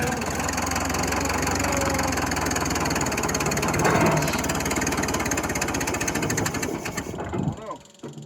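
Small homestead engine running with its throttle stuck, droning loudly and steadily under people talking, then sputtering and dropping off near the end as it nearly dies.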